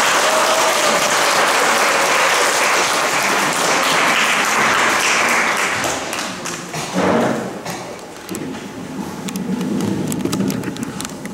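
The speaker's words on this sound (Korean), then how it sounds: "우리 이현주 전 국회의원님에게 힘찬 박수를 보내주시기 바랍니다." A lecture audience in a district office auditorium gives loud, sustained applause that thins out into scattered claps and thumps near the end.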